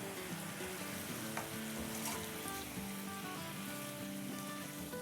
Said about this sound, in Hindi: अब इसको हिलाते जुलाते हैं चिकन को।